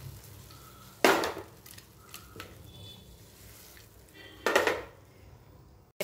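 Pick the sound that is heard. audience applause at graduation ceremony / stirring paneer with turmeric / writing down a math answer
stirring paneer with turmeric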